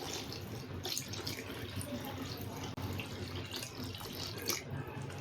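Soft running and splashing water as water is poured and mixed into wall paint at home, a steady faint trickle throughout with no talk.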